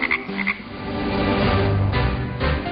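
A frog croaks loudly and steadily, alone and close by, its calls running on without a break.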